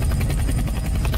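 A heavy chopper helicopter in the Roblox video game drones loudly and continuously, its rotor pulsing in a steady rapid rhythm close up, with no talk over it.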